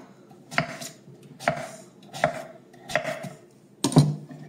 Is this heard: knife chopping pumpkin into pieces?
yes